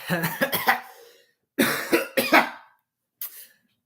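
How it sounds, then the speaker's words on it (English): Three bouts of harsh coughing, close and loud, the first a quick rapid series, followed by a short fainter cough at the end. "Sorry, I just had to cough."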